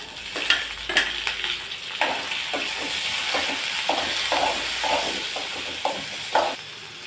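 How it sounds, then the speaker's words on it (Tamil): Chopped tomatoes frying in a pan with sautéed onions for a Tamil soya ball kuzhambu, a steady close sizzle broken by repeated clacks and scrapes of stirring, with no talking. "ரெண்டு தக்காளி வந்து கட் பண்ணி வச்சுருக்கேன் சேர்த்திக்கலாம்"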